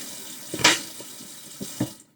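Running tap water splashing at a sink while baby carrots are rinsed, a brief close burst of flow with soft clunks of handling around it.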